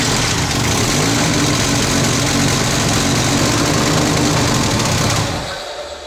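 A car engine runs steadily at idle with a leaking exhaust junction, giving a loud, rough low rumble with a hissing, blowing edge that holds for about five seconds before dropping off.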